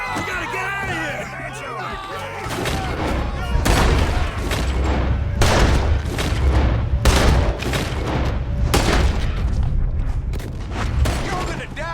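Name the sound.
gunfight shooting in the video game Red Dead Redemption 2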